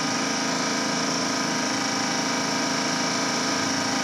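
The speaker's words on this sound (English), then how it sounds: "I'm not having to yell over the generator itself" A Generac iX2000 digital inverter generator runs at a steady hum, a continuous broadband drone with no change in pitch, heard up close on its own.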